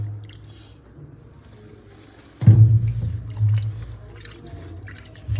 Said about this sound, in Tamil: சிக்கன் க்ளீன் பண்ணுற ப்ராசஸ் தான் இப்போ நீங்கள் பார்த்துட்ருக்கீங்க